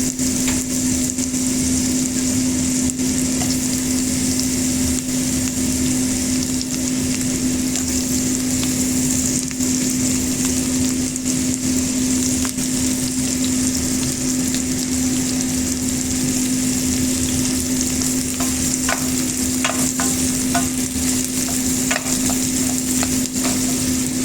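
Onion frying in butter for chicken adobo gives a steady, continuous sizzle that stays even and fairly loud throughout, with a constant low hum running underneath and no talking.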